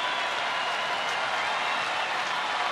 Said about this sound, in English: And the crowd starting to rise to their feet and get behind Joe Nathan and the Rangers